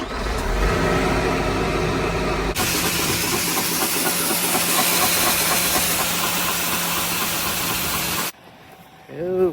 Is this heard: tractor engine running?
yes